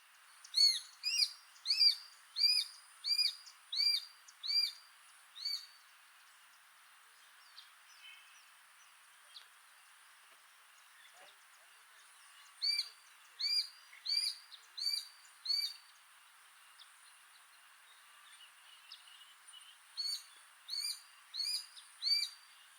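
A shikra, a small hawk, calls in three bursts of sharp, repeated piping notes, each a rapid run of six or seven clear calls, with quiet gaps between and no voices.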